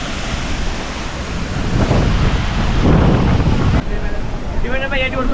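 The Athirapally waterfall roars as a broad, loud rushing wash mixed with heavy wind buffeting on the microphone, and a voice speaks briefly near the end.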